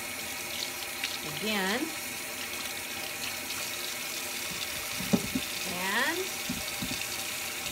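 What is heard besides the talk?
water running from tap while rinsing beets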